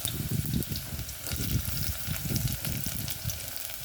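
Onion frying in oil for a mutton dish, a close, steady sizzle with bubbling crackle and occasional stirring, no talking.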